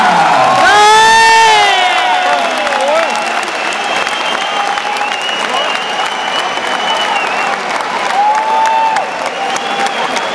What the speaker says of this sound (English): And a big round of applause for your runner-up, Whisper!